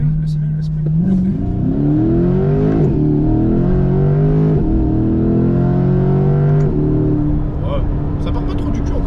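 A 500 hp car accelerates hard, its loud engine note rising and falling through several rev sweeps and gear changes, while people talk over the engine throughout.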